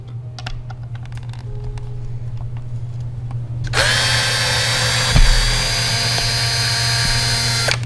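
A power screwdriver whirs loudly and continuously while removing screws to take apart an MP5 SD6, preceded by a few seconds of quieter clicking and handling.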